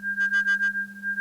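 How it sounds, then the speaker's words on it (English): Synthesized sine-wave tones: a steady high pitch over a constant low bass drone, with a pulsing pattern of about five short beeps on the high end, clean and close with no voices. "we've got the high sound times the sum of 2 sine waves"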